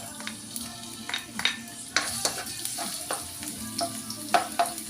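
Ginger sizzles in hot cooking oil for a Filipino ginataang tahong dish, a steady crackling fry broken by scrapes and stirring strokes, close up and with no voices.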